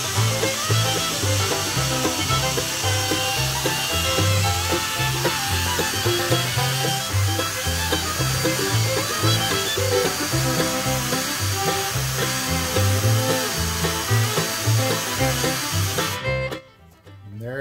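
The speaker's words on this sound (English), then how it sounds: "We want to go to something much finer, which is the Scotch-Brite here" A power tool fitted with Scotch-Brite runs continuously at a steady, buzzing whine while finishing a classic car part, loud and close throughout before cutting off abruptly at the end.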